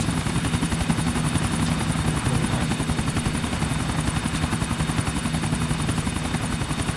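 Helicopter in the video game GTA IV flying continuously nearby, a steady loud rotor drone with rapid rhythmic blade chop throughout, no talking.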